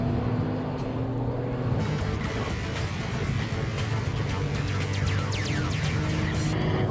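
A 2002 Porsche 911 Turbo laps a wet track, its engine a steady, dense roar with tyre spray hissing throughout, holding loud and close without a break.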